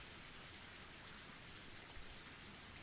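Torrential rain pours in a steady, dense hiss across the whole stretch, faint and unbroken apart from a tiny tap near the end.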